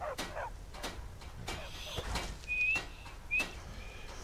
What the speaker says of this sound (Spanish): practica el silbido de tu caballo